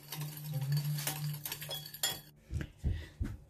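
A spoon stirs a salmon sauce with lemon juice and sugar in a bowl, giving close, bright clinks and scrapes in quick irregular bursts, with a low hum underneath at the start.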